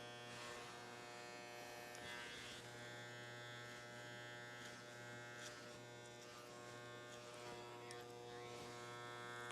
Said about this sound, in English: Close the clipper blade halfway